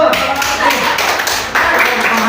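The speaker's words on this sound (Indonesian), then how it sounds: "Ya, tepuk tangan dulu" Clapping from an audience at a school positive-culture session, a loud burst of hand claps with a brief dip midway before resuming, with voices mixed in.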